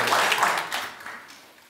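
An audience at a policy forum on fire-safety design and supervision applauds together, a brief burst of clapping that starts full and fades out within about two seconds.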